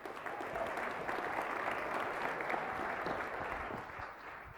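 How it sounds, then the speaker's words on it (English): Audience at a founders pitch competition grand finale claps steadily for several seconds, a dense sustained round of applause from a crowded room, easing slightly at the end. "Give a big round of applause."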